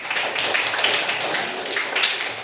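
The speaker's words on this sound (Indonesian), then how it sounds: "Tepuk tangan buat." Students in a school classroom clap their hands during a counseling lesson on bullying, a steady, dense patter of many hands lasting a couple of seconds with no talking over it.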